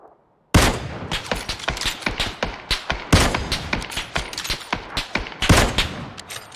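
Rapid automatic gunfire in the battle royale game PUBG, loud sharp shots in quick uneven bursts after a brief quiet start, with heavier blasts standing out among the steady rattle.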